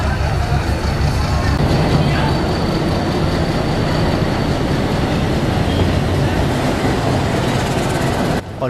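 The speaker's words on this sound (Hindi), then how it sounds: "टिकट लाने के तुरंत बाद हमारी ट्रेन प्लेटफॉर्म पे लगने को बिल्कुल तैयार थी।" An old meter gauge train in India rumbles loud and close at a station platform, a dense continuous roar of engine and wheels lasting throughout.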